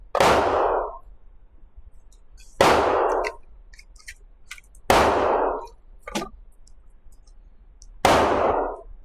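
Four sharp pistol shots from a Stoeger STR-9 9mm handgun fired outdoors, spaced a couple of seconds apart, each loud crack trailing into a short echo, with a faint metallic clink between them.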